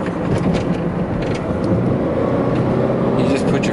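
Ford Taurus station wagon with a big engine pulling hard under acceleration, a dense, loud engine roar and road rumble heard from inside the car, steady throughout with a voice over it.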